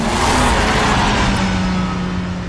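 Car engine from Telltale's Batman: The Enemy Within game, a steady loud motor drone with a low hum running throughout, no speech over it.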